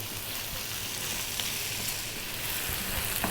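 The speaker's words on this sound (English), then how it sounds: "Those onions are cooking beautifully." Onions frying with lamb in a pan, giving a dense, steady crackling sizzle that holds evenly throughout, close and fairly loud with no voices.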